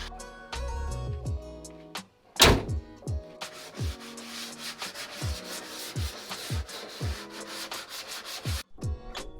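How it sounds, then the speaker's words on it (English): Sandpaper rubs briskly over the cut metal edges of a window opening in a Ram Promaster van wall, a run of short, rhythmic scraping strokes broken by a few hard knocks, close and fairly loud with no one talking. "The sandpaper went real quick and made it way smoother than the file"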